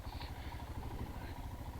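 A motorcycle with a fault rides over a rough, bumpy Indian highway between Meghalaya and Dharamnagar, its engine a steady low rumble mixed with rattling and wind noise, continuous and close.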